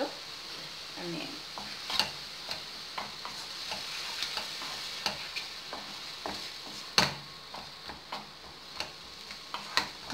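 Onions frying in a pan with a little salt for a paneer masala, a soft steady sizzle with a bright hiss, broken by intermittent clicks and taps of stirring, close and fairly quiet with no talk.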